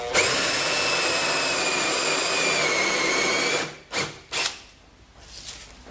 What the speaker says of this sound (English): I'll just do it with my drill